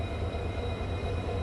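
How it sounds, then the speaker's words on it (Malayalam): Low steady rumble of a railway locomotive idling at a station, a constant droning engine with faint high tones above, moderately loud and unbroken, with no voices. "ഇനി ഇതേ ലോക്കോമോട്ടീവ് തന്നെയാണ് നമുക്ക് പോകാനുള്ള ട്രെയിനിലും അറ്റാച്ച് ചെയ്യുക"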